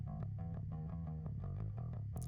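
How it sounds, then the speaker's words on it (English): A plain, unprocessed bass line from a music production plays as a few rhythmic, low, sustained notes with a brief bright burst at the very end, and no one speaks. "if I were to just play the regular bass sound,"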